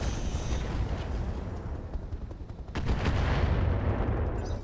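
Weapon fire at a Gladiator mech in the RogueTech battle game: dense, rumbling explosive shots and impacts filling the whole stretch, with a sharp burst near the middle before the booming swells again.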